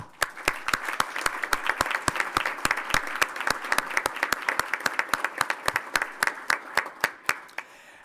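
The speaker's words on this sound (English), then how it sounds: "I want to give you a round of applause." Applause from attendees at a township council meeting: a sparse room of individual hand claps, sharp and distinct, steady for several seconds before thinning out at the end.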